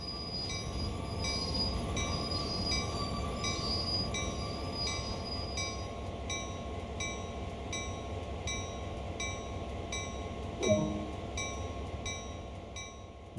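A GP38-2 diesel locomotive in the Train Sim World 2 game rumbles steadily while braking to a stop, with a continuous engine drone, faint rail rhythm and a brief squeal of brakes near the end, no voices.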